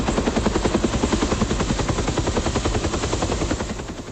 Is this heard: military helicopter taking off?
yes